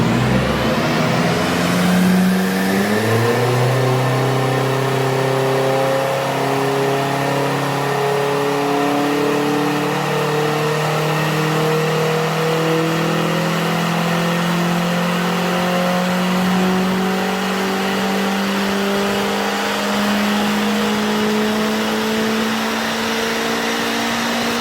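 Audi S3 fitted with a K04 turbo revs hard under power, a loud, steady engine note that climbs in pitch over the whole stretch, with no talking.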